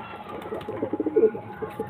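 A brief burst of soft, rolling cooing from a male pigeon, close by and moderately loud, with a few quick pulses in the middle.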